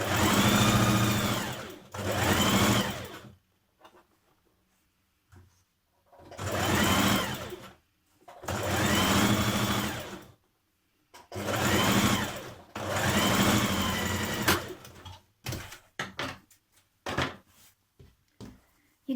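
A domestic sewing machine stitches a summer jumpsuit lining in several loud, steady bursts of whirring stitching, each a couple of seconds long, broken by quiet pauses and faint handling clicks near the end.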